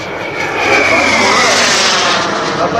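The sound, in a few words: F-16 fighter jet flying by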